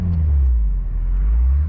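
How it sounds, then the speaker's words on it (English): Honda S2000 idling with a Tanabe exhaust and aftermarket intake, a steady, deep low rumble that holds even throughout, close by and alone, with no voices. "The Tanabe exhaust isn't too overbearing. You hear the sound of the intake over it, which is nice."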